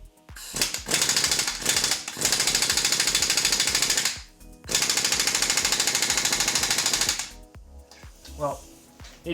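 An air impact tool hammers at a stud in a transmission housing, giving loud, close, rapid rattling bursts, two long ones plus shorter stutters, with pauses in between.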